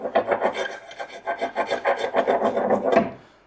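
Clay scraped off a fibreglass mould for a boat's steering bulkhead, a steady close rasping scrape lasting a few seconds before trailing off.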